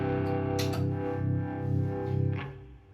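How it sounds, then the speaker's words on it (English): Electric guitar sustaining a chord through a pedal in harmonic tremolo mode with a touch of reverb, its tone pulsing in a steady wobble, with a couple of light pick or string clicks before it fades. "At the moment, I've got it in its harmonic trem mode, and I'm kind of just playing with that bit."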